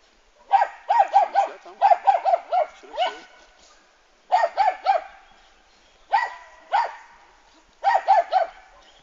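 A Parson Russell terrier barks in a training pen, loud and close, in rapid bursts of three to five sharp barks separated by short pauses, with some yipping.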